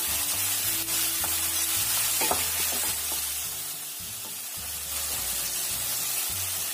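Tomatoes sizzle and fry in a pan while a utensil stirs and scrapes in steady repeated strokes, with a low rhythmic hum underneath.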